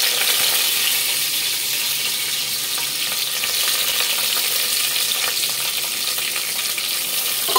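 Sliced onions and split green chillies frying in oil in a pan on high heat, a loud, continuous hiss and sizzle that stays steady throughout with no talking.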